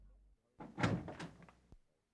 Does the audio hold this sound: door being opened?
yes